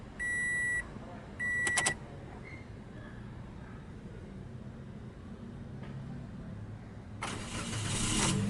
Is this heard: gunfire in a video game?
no